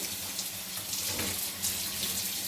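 Running kitchen tap water pours steadily over a cloth being washed in the sink, a continuous close splashing hiss.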